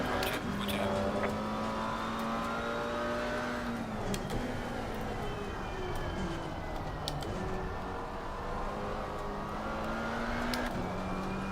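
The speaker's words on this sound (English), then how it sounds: "Faster car approaching." Race car engines rumble in Assetto Corsa Competizione as a faster car closes in, a continuous droning tone with gear shifts and pitch changes and a second engine note rising behind it, steady and moderately loud.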